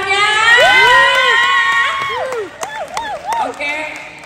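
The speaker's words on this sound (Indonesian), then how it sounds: "mana tepuk tangannya?" A crowd at the Inakultura 2023 event in America cheers loudly, with long shouted whoops and children's yells over light scattered clapping, the voices rising and falling in bursts.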